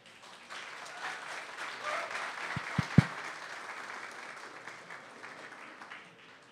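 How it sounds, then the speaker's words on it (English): Audience applause greeting a speaker at a tech conference, a continuous patter of many hands in a large room, with a few close thumps near the middle. "please give him a big round of applause"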